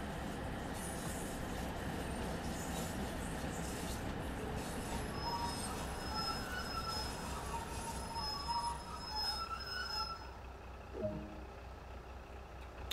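A train in Train Sim World 2 rolls over points on the West Cornwall Local route, making a continuous rumble of wheels on rail with high squealing tones that come and go, then a sharp clunk near the end.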